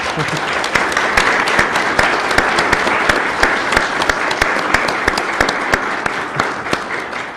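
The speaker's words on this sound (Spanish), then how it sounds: "quisiera que me apoyaran a dar un aplauso a mi equipo" Loud, sustained applause from the audience at a legislative archives forum, honoring the archive team, with many hands clapping evenly and close for over seven seconds and no talking.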